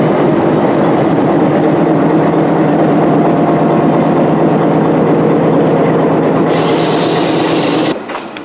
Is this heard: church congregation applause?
no